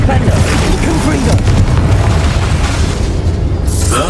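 Confringo fire spell explosion in the Hogwarts Legacy video game, a loud, deep booming blast with rumbling low end that fills the whole moment, followed by a brief bright burst near the end.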